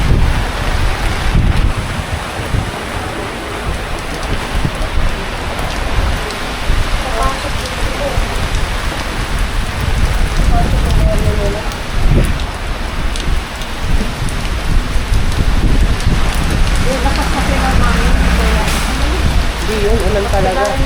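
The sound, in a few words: heavy rain falling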